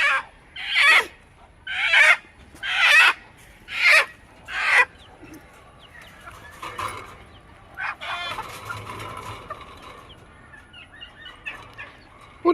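Five loud, evenly spaced hen squawks ring out, then a flock of chickens with colds keeps clucking softly and irregularly in the background.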